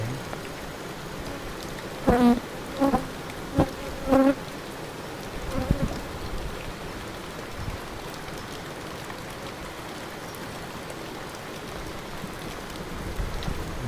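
Honeybees buzz in a steady, dense drone around a hive outdoors, with a few short knocks early on and no voices.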